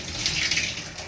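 Steady hiss of shower water spraying nearby, bright and continuous with slight fluctuations, nobody talking.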